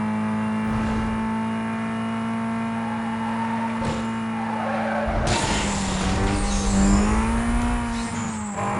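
Car engine in the racing video game Need for Speed Most Wanted, a loud sustained drone that rises in pitch, joined partway by screeching tyre skids.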